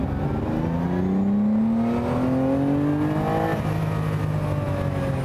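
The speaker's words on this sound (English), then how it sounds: "That beautiful 4-cam V12" A classic early Lamborghini with a 4-cam V12 revs on the road, its smooth harmonic engine note climbing in pitch over a couple of seconds, then easing and settling as the car cruises, heard loud and close from inside.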